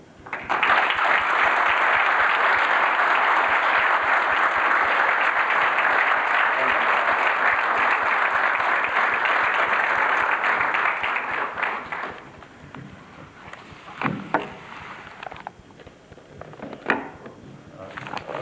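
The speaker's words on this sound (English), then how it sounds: "ask you all to give a round of applause to the Canadian medical team" An audience gives a Canadian medical team a long, loud round of applause that holds steady for about eleven seconds, then fades to quiet room noise with a few scattered knocks and shuffles.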